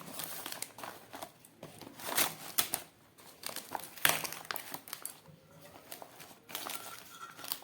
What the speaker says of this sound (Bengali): এবার এই কলা পাতাগুলোকে আমি এইভাবে ভাজ করে দিচ্ছি